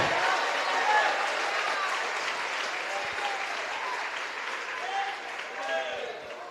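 A church congregation applauds loudly and steadily through an evening worship service, dense clapping with crowd noise and a few voices calling out, filling the whole stretch before tapering slightly near the end.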